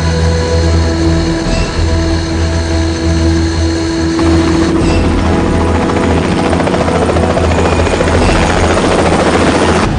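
A loud, steady helicopter roar with a constant low rotor thrum and engine whine, no voices, shifting slightly in tone partway through.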